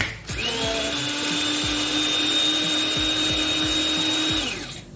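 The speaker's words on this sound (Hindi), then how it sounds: "कॉफ़ी ग्राइंडर में कर लें या ड्राई मिल यूज़ कर लें।" Roasted coriander and cumin seeds being ground to powder in an electric coffee grinder: a loud, steady whining motor runs for about four seconds with rattling seeds, then cuts off.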